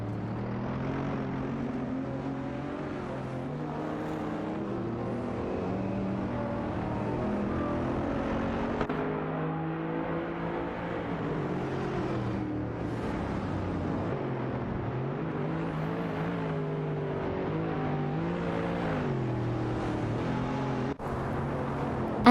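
Race cars in an AI racing video game, including an Audi R8 and a Mercedes SLR McLaren, drone steadily with shifting engine pitch across the whole stretch, several machines overlapping in a continuous roar.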